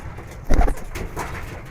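Giribaz pigeons coo nearby, one soft throaty call swelling briefly near the middle over a low background murmur.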